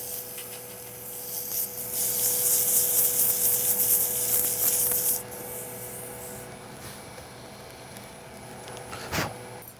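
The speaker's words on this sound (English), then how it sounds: "So just a quick pass with sandpaper." Sandpaper is rubbed over a turned wooden mortar and pestle in a quick pass, making a soft, steady rasping hiss for several seconds before fading to quieter scraping and a brief knock near the end.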